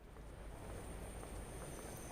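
A train pulls into a platform on the Cathcart Circle route in the Train Sim World 2 video game, giving a steady, continuous rumble and hiss that holds at an even level throughout.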